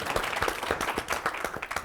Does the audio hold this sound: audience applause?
yes